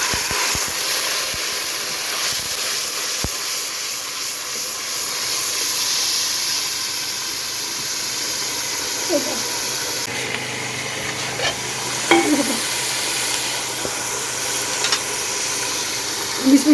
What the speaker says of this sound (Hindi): प्याज हमारा ब्राउन हो गया है, इसमें डालेंगे लहसुन और अदरक का पेस्ट।